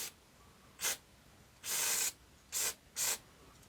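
A washable spray can from Dollarama is sprayed in short hissing bursts, four of them with one longer blast, and quiet pauses between them. The hiss is close and clear.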